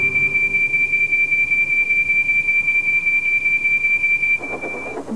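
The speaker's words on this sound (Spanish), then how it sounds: "hizo sonar el silbato como nunca antes lo había hecho" A cartoon steam train whistle blown hard holds a single long, steady high tone for several seconds over a low rumbling background, then breaks off into a brief noisy burst.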